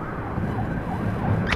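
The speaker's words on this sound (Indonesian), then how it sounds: "Oke, ambulansnya masuk jalur cepat." An ambulance siren wails as the ambulance moves into the fast lane of a road, its rising and falling tone fairly faint beneath a heavy rumble of traffic and engine noise, with no speech.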